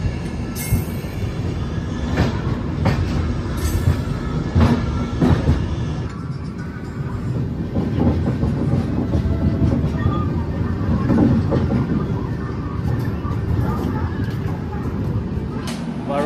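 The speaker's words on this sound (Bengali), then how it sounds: "আমাদের ট্রেন এখন ছেড়ে দিল" Howrah–SMVT Bengaluru superfast express pulling out and running, a steady loud rumble of wheels and carriage noise with rhythmic clatter and occasional squeals, continuous throughout with no speech.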